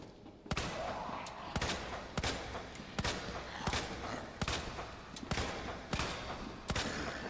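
Player's handgun firing in Resident Evil 2 (2019), about eight sharp single shots spaced roughly every 0.6 seconds, loud and close with game ambience between them.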